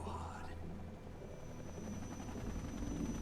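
Several helicopters in the video game Metal Gear Solid 3 give off a steady, close rotor drone with a deep throbbing hum, joined briefly by a higher whine at the start, while voices murmur underneath.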